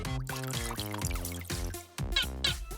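Cartoonish watering can pouring in a video game, a series of short bubbly glugging pours in quick stepped bursts, loud and close, with no talk.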